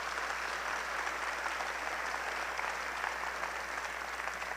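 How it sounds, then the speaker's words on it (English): Steady crowd applause at a university staff opening meeting for the president and cabinet members, a dense even wash of clapping heard from a distance, continuous throughout. "can we give a round of applause to our amazing president and our amazing cabinet members?"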